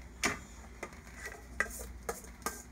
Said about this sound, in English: just simply mix it around. Make sure everything's nice and coated.